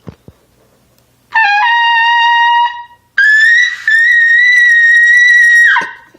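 A trumpet blown with extra air: two sustained bright tones, the first held about a second and a half, the second longer and louder at a higher pitch, played alone after a couple of soft clicks.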